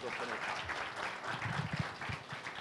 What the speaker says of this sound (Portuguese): Guilherme Corte, salva de palmas.